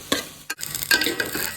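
Rice being fried and stirred in a pan, close scraping and stirring strokes over a light sizzle, several quick scrapes in under two seconds.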